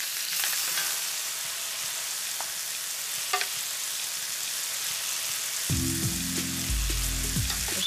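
A salmon fillet just flipped in a frying pan gives off a steady, close sizzle that fills the whole stretch, with a low hum joining near the end.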